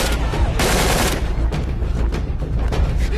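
Gunfire during a siege of a temple, heard as dense, loud bursts of rapid shots that blur into continuous cracking and rumble, with one especially heavy volley early on.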